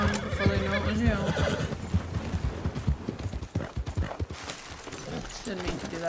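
Horse hooves clip-clop in Red Dead Redemption 2, a steady trotting rhythm heard alongside a horse's whinny, game music and voices.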